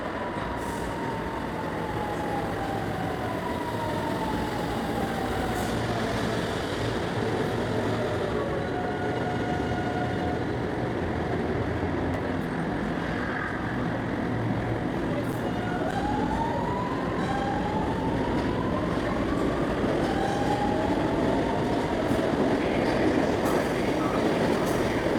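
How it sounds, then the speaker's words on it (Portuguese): A train rumbles and roars steadily into an old railway station in Rio de Janeiro, with high, sliding wheel squeals over the dense, continuous noise throughout. "Olha aí, vem vindo o trem."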